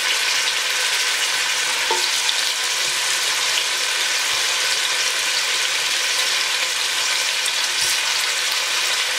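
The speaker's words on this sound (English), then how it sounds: "it's sizzling, so you know it's ready to go" Oxtail and butter beans sizzle steadily in a pan, a bright continuous hiss with occasional faint scrapes, close up and with no talking.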